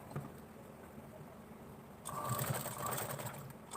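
A sewing machine stitching the slit of a kurta whirs steadily at low volume, then runs faster and louder after about two seconds, with no talking over it.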